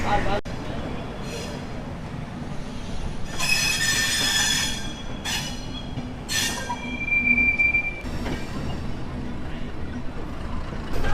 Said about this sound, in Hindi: 3:55 पे हमारी ट्रेन डिपर्चर हो रहा है शालीमार रेलवे स्टेशन के 1 नंबर प्लेटफॉर्म से